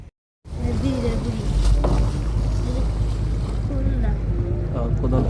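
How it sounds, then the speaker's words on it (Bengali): A passenger launch engages reverse gear at Kodalpur launch ghat, its engine giving a steady, loud low drone with wind buffeting the microphone and some voices nearby. "আমাদের লঞ্চ পরবর্তী গন্তব্যের উদ্দেশ্যে ব্যাগ গিয়ার দিচ্ছে"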